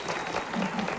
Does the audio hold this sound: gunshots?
no